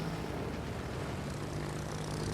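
Aircraft engines of a squadron in World of Warships Legends drone continuously, a dense steady propeller roar filling the moment with no talk.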